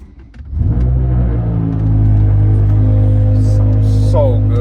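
A BMW M5 V10 with a manual gearbox cranks and fires up close by, then settles into a loud, steady rumbling idle.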